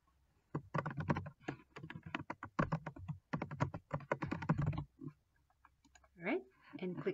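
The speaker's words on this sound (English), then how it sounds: "enter the class name," Quick bursts of close keystrokes on a computer keyboard as a class name is typed into QuickBooks, with brief pauses between runs of clicking and a short voice near the end.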